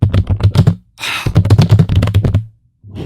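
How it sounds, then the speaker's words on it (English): Rapid clicking of keys on a computer keyboard in quick bursts, close and crisp, with a brief pause midway and near-silence toward the end. "let's type something without the effects on."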